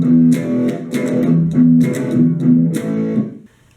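A distorted electric guitar plays the bridge of a song in steady rhythmic strums, loud and close, before cutting off near the end.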